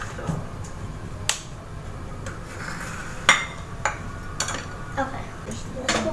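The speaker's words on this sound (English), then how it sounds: "I got a pan here" A metal pan being handled while making crepes, with several sharp clanks and clinks spaced irregularly against low kitchen background noise, close and fairly loud.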